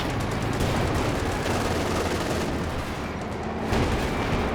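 Anti-tank gun and an M3 Stuart light tank firing on a Panzer IV in a Company of Heroes 2 battle, a dense, steady barrage of overlapping gunshots and booms rolling on throughout, with a heavier burst near the end.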